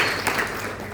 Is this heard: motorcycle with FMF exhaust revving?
no